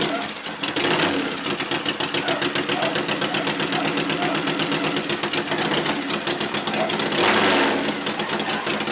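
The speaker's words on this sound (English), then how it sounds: "Rev it up a little bit, Rev it up a little bit." The engine of a McIntosh Lightning car with a big cam revs loudly and close, with a choppy, lumpy pulse that swells and falls over several seconds, and voices are faintly mixed in.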